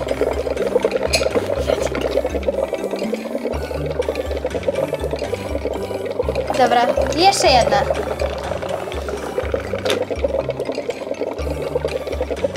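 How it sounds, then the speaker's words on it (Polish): Dry ice dropped into warm water for a Lego-town smog demonstration, giving a steady bubbling and watery rush with a brief louder surge in the middle, heard under a voice speaking. "Potem do ciepłej wody wrzucamy suchy lód."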